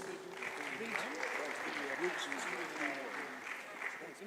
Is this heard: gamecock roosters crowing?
no